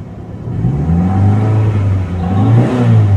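Toyota Corolla twincam engine with carburettor emission control being revved toward 3000 rpm, a steady loud close engine drone that rises and holds, with rev swells and no talk.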